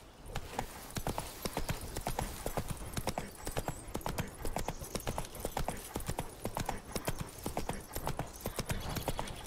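Roach, the horse in The Witcher 3, trots with steady, rapid clip-clopping hooves that carry on without a break, loud and close, with no talk over them.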